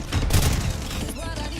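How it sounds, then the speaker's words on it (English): Bombard cannons firing in a medieval real-time strategy game, a dense rapid volley of booming shots stacked over one another amid ongoing battle noise. "the bombard cannons were just flattening those"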